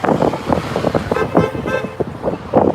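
Several car horns toot in short bursts amid passing street traffic in Yakima, Washington and gusting wind, fairly loud and close.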